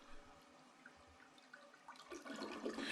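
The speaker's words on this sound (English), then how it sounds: "Was that a toilet flush?" An RV toilet flushes faintly in the distance, a quiet hush of water that swells into a louder rushing swirl over the last second.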